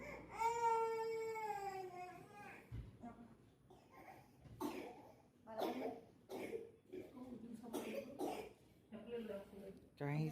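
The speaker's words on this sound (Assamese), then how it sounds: "কাহিছে" A child coughs in harsh bursts at a child specialist's clinic in Doomdooma, Assam, after an opening stretch of whimpering cries, with nearby adult voices talking between the coughs.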